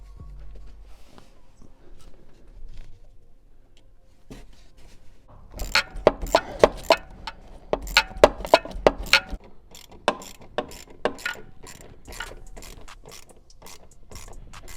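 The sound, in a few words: ratchet tightening hose clamp on BMW M340i intake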